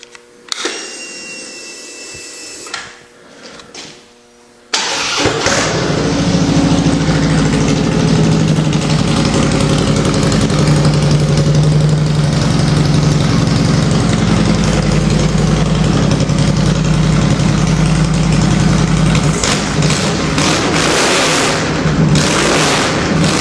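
A Harley-Davidson motorcycle engine cranks and catches, then settles into a loud, steady, rumbling idle that runs on alone after a few seconds of near silence.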